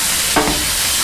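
Ribeye burgers sizzle steadily on a hot cooking surface, with a brief scrape and louder hiss as they are flipped.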